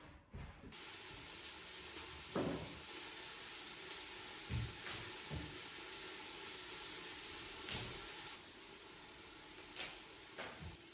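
Butter and 200 grams of chopped mushrooms sizzle quietly in a pan, a steady soft hiss broken by a few brief clinks and knocks of utensils, with no talk.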